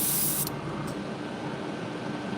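An aerosol spray paint can hisses steadily at close range while coating a fishing lure, the spray sound continuous and loud throughout.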